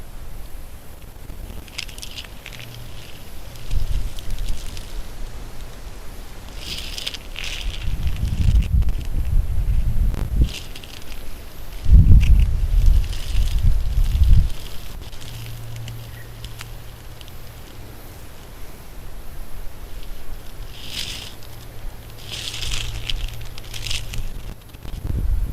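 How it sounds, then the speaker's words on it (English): Wind blowing outdoors at night beside a lake, a broad continuous rushing that swells into stronger gusts midway, with low rumbling buffeting and faint rustling, no voices. "Wind just picked up."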